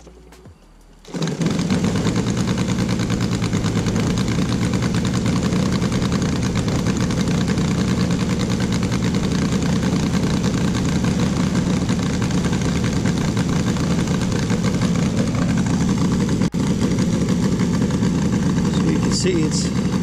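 A Saito FG-60R3 four-stroke model airplane engine on a TF P-47 runs on ethanol-free 93-octane fuel with two-stroke oil. It catches after a second and then holds a steady, loud, buzzing drone at about 2300 RPM.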